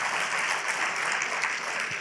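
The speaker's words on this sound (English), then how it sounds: "Round of applause for Fred and Sherry" Lecture audience breaks into a brief, steady round of applause, dense clapping filling the room without any voices over it.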